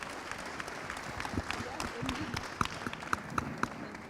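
Audience applause for a conference panel at a smart cities event, a steady patter of many hands with a few louder claps near the end, mixed with crowd murmur.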